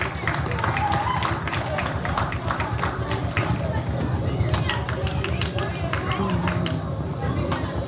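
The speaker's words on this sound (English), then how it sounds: "Let's give East End a round of applause." Crowd at a World Poetry Day event in Bermuda applauds East End primary school students, a steady, dense patter of many hands mixed with cheering voices and crowd chatter, sustained and fairly loud.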